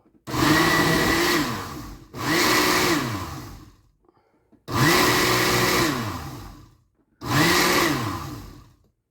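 A blender pulses a frozen peach and yogurt smoothie in four loud bursts of whirring motor, each lasting about two seconds with short silent gaps between, the pitch dipping as the thick mix catches the blade.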